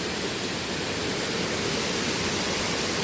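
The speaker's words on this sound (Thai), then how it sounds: "น้ำตกลงมาจากข้างในนู้น" A waterfall deep in a forest gives a steady, dense rushing hiss of falling water, even and unbroken from start to finish with no voices.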